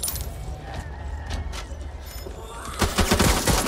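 Gunfire in a video game, a burst of broadband shots building near the end of the clip over low rumbling ambience, with no voices.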